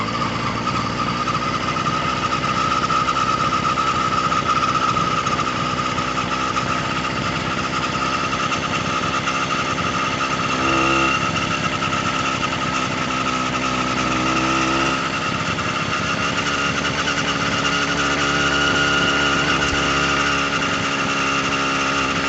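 Small motorized bicycle engine ripping along on a night ride, a steady high-pitched buzzing two-stroke drone that stays loud and close throughout with slight pitch shifts as speed changes, no talking.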